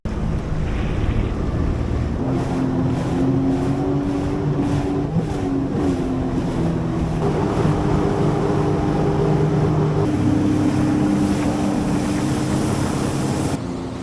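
A Sea-Doo RXP personal watercraft powers through ocean chop, its engine whine rising and falling steadily as the hull slaps over waves, with heavy wind rushing across the microphone throughout.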